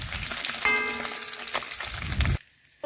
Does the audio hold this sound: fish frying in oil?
yes